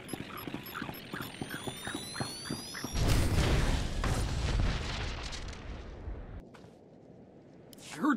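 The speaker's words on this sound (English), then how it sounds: "I heard the explosion from here." A loud explosion in Star Wars: The Old Republic sets off a sudden broad roaring blast partway through that rumbles on for several seconds and then fades into quieter background sound, with no talk.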